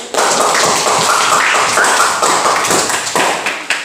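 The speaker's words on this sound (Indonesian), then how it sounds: "kasih aplaus untuk" A classroom of students claps loudly and close by, the claps irregular and sharp, then thinning toward the end. No voices are heard.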